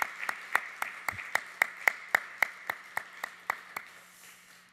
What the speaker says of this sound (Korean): 우리 다시 한번 하나님께 영광의 박수